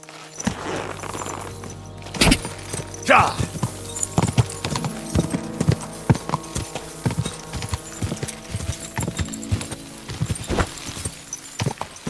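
Horse hooves clip-clop at a steady walking rhythm in a video game, close and clear, with occasional louder thuds and a faint background hum.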